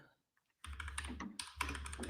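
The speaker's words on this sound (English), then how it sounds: "Do you hear my keyboard?" Rapid clicky typing on a computer keyboard, close and fairly loud, in two quick bursts after a short near-silent pause.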